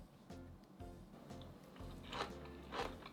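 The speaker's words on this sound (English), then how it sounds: "Can you hear the crunchiness of the minari?" Crunchy minari and calamari salad, finished with whole roasted sesame seeds, being chewed close up, with several crisp bites and crunches in an irregular rhythm and no talking.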